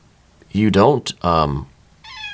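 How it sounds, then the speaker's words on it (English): A house cat gives a couple of clear, close meows between a woman's speech, which runs over most of the short clip. "Here's my cat. She cares."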